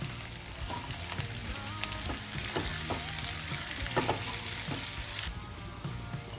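Sliced onion with green chillies and curry leaves sautéing in a pan for a Kerala-style fish molly makes a continuous close sizzle with scraping stirring knocks, briefly brighter before it eases off.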